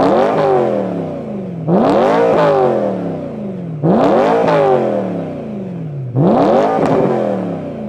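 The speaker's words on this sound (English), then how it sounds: "the car is muffler deleted. It's insanely loud" A BMW E92 M3 with a high-revving V8 and muffler-deleted exhaust revs hard three times. Each loud, raw blip climbs sharply and then falls away, with a rough, crackling idle between the pulls.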